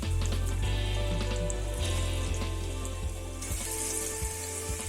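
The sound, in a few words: chicken frying in oil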